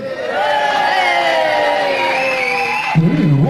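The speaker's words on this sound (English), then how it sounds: "Brilliant, what a crowd." A live wrestling crowd in Canton roars and cheers loudly and steadily, with sustained shouting that then gives way to a voice.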